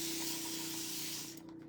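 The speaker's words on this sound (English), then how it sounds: "I'm gonna just spray this down with water" Water sprayed from a bottle onto a recycled craft project, a steady close hiss lasting over a second before cutting off, followed by faint quiet.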